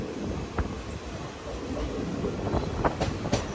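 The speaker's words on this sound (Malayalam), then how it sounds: "കൊയിലാണ്ടി റെയിൽവേ സ്റ്റേഷനിലേക്ക് ഇതാ നമ്മുടെ ട്രെയിൻ എത്തിക്കൊണ്ടിരിക്കുകയാണ്" A mail train pulls into Koyilandy railway station on an Indian line, a steady rolling rumble with occasional wheel clacks and short metallic peaks, heard up close without talk.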